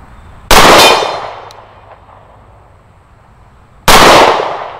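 Two sharp, loud pistol shots from a Kimber Ultra Carry II compact handgun fired with Cobra magazines, roughly three seconds apart, each with a ringing decay into an outdoor range.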